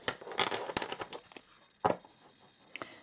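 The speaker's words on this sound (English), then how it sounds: "Now let us shuffle this deck a little bit and see what you get." Tarot cards being shuffled, with a few close, crisp riffling and crinkling bursts spread unevenly across a quiet background and no talking.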